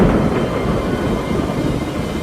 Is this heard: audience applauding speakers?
no